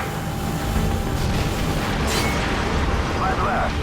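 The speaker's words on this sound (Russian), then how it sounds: "Второй, начинай обстрел." Artillery shelling in Call of Duty Modern Warfare 2 produces a dense, continuous roar of booming explosions, loud and rumbling, with a sharper burst near the midpoint.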